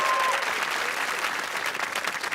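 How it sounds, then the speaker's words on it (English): A studio audience at a BBC quiz show applauds steadily for a couple of seconds, a dense, even patter of clapping with no voices over it. "I think a round of applause for Liam, who's into the final today."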